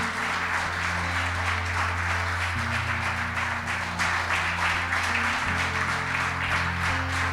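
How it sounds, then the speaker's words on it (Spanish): A church congregation applauds during a worship service, many hands clapping in a continuous, even roar over sustained keyboard chords that shift underneath, all fairly loud and steady. "Dale un aplauso al Señor."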